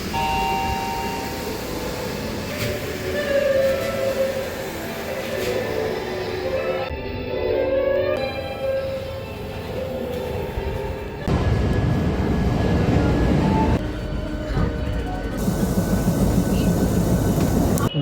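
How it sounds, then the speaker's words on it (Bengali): A toy train ride at the Howrah Rail Museum brings a steady rumble and rattle of the small train, with squealing, shifting tones and a few clear changes in the running noise. Faint voices can be heard underneath. "আমরা হচ্ছে এখন টয়ট্রেনের মধ্যে চড়ে পড়েছি।"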